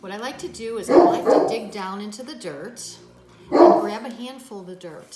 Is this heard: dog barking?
yes